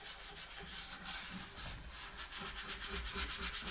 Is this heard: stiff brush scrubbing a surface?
yes